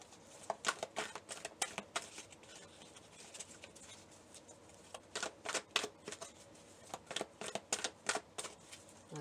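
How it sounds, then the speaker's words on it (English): Playing cards are shuffled in several quiet bursts of quick riffling and flicking, separated by short pauses. "I feel like there's a shuffle that needs to be made here."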